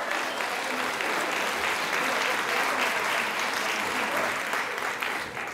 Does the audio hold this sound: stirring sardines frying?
no